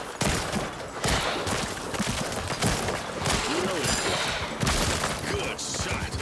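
Gunfire in a VRChat shooting game, a steady dense rattle of rapid shots and impacts filling the whole moment, with voices talking over the noise.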